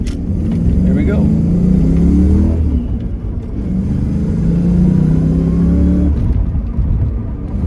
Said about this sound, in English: This has such a good sound to it. I really like the exhaust on here too.